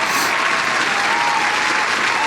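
Steady, dense applause from a group, offered as congratulations to the Blue Jays after their season ended, running unbroken and fairly loud throughout with no pauses.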